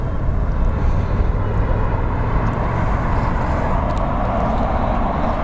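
A Boeing 757 freighter jet at Heathrow Airport roars steadily and loudly, a broad continuous engine rumble holding without break from start to finish.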